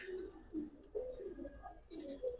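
Budapest high flyer pigeon cooing softly, a few low rounded coos in close succession, faint, with light handling noise around.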